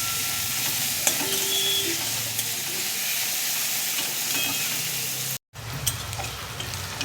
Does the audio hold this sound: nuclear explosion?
no